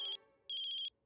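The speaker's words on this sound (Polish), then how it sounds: "Ktoś obcy dzwoni do tatusia." Cartoon telephone ringtone, a bright electronic trill sounding in short repeated bursts with brief gaps between them, loud and close.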